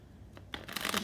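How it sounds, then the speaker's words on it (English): Tarot cards being shuffled by hand, a soft papery riffle that starts faintly and builds into a denser, louder flutter over about a second, with no talking. "let's go ahead and shuffle up these tarot cards."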